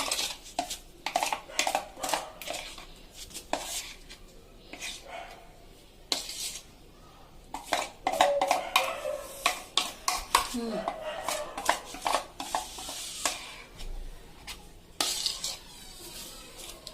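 A spoon scrapes and clinks against a bowl to loosen food stuck inside, making a run of sharp metallic taps and scrapes at close range, with brief pauses between bursts.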